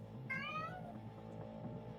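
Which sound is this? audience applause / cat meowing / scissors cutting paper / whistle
cat meowing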